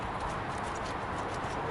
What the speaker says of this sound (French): Ça, c'est des chevaux.